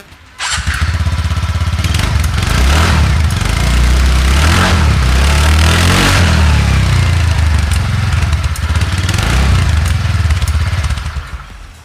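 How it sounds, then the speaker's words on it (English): A TVS N-TORQ 125cc Race Edition scooter engine starts and revs up and down repeatedly with a buzzy, bassy exhaust note, loud and close, settling back toward idle near the end. "let's check out the exhaust note of the N-TORQ"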